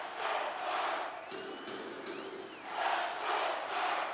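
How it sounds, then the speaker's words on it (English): A large hockey game crowd roars in aggressive, rhythmic, surging waves of chanting, loud and sustained, with a brief lull in the middle before swelling again. "That crowd chant might be the most aggressive thing I've ever heard in my life."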